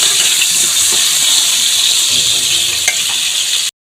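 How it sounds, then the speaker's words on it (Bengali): Potatoes frying in hot oil give a loud, steady, close sizzle that holds evenly, broken by one soft clink before cutting off abruptly near the end. "এবার আলুগুলো আমি হালকা লাল লাল করে ভেজে নিচ্ছি।"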